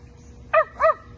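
Two short, sharp dog barks in quick succession, close and clear, over a quiet background.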